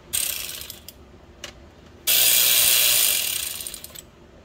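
A ratchet clicks loose the 10mm screws holding the transmission filter on a 2011 Nissan Altima: two short clicking bursts, then a longer, louder steady run of ratcheting up close.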